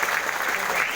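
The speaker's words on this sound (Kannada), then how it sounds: "ಚಪ್ಪಾಳೆ ಹಾಕಿ" Audience applause at a Karnataka SC and ST government employees' association convention in an Ambedkar hall, honouring an official; dense, steady clapping fills the whole short moment at even loudness.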